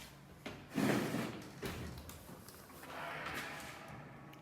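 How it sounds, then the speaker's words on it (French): A door being shut indoors at home, a couple of soft knocks and a louder bump and slide close by, with no talk over it. "Je vais fermer la porte."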